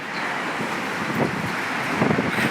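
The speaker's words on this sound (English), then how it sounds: "it's windy as hell" Strong wind roars steadily across the microphone on Tokyo's Rainbow Bridge, a loud, constant rushing buffet with brief gusts swelling throughout.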